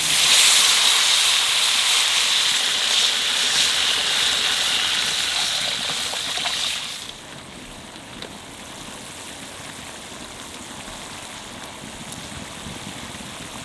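Water comes to a rolling boil in a pot for a thin fish curry of fresh catla, giving a steady loud hiss and bubbling that drops to a softer simmer halfway through.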